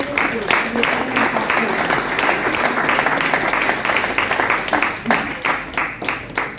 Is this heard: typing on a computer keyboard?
no